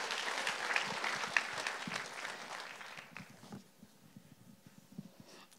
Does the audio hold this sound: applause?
yes